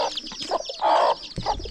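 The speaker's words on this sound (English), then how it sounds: "And inside they have some hen." Hens cluck in an outdoor yard, a few short clucks and one louder drawn-out call near the middle, close and without talk.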